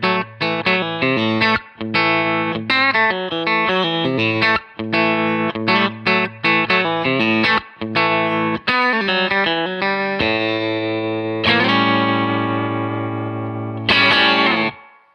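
An electric guitar plays through an Origin Effects Cali76 Stacked Edition compressor pedal, with choppy, evenly sustained distorted phrases and chords and then longer held notes that ring out, all without talking.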